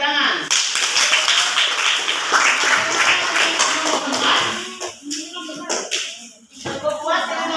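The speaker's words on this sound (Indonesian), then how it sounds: "Oke, tepuk tangan." Students clapping their hands in a classroom, a dense burst of applause that thins into scattered individual claps and then stops, with voices heard alongside.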